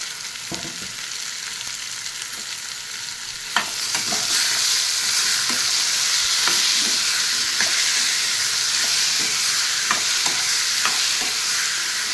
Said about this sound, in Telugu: ఇలా సగం వేగితే చాలు ఉల్లిపాయ తర్వాత దోసకాయ వేసుకుందాం